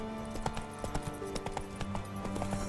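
Roach, a horse in The Witcher 3, clip-clops along in a steady quick rhythm of close, crisp hoofbeats, with game ambience and music tones underneath.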